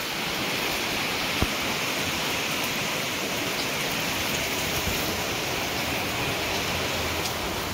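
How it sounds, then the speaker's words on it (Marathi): Rain showers fall in a steady, even wash of broadband noise, continuous and close, with no voices. "हा, पावसाची सरे लागतात इथं."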